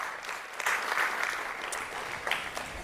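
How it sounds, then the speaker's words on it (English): An audience at an EDHEC graduation celebration applauds the graduates, a dense, even patter of many hands clapping at a moderate distance, with no talk over it. "So I wanted to give you a round of applause as well for that."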